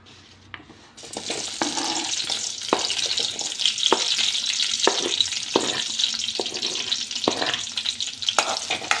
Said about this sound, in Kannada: ಇದೀಗ ಚೆನ್ನಾಗಿ ಕಂದು ಬಣ್ಣ ಬರುವವರೆಗೆ ಹೀಗೇನೆ ಫ್ರೈ ಮಾಡ್ತಾ ಇರಬೇಕು